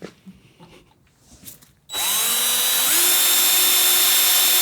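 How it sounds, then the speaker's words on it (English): A power drill starts up after a quiet stretch, then whines loudly and steadily at full speed through a gas tank, close by, continuing without pause. "I can drill through it."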